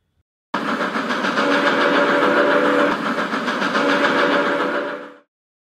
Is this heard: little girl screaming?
no